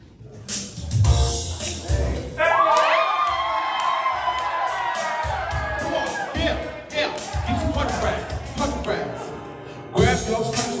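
A crowd at a hype club cheers and whoops over thumping music, with shouts and excited voices rising in waves, loud and dense throughout.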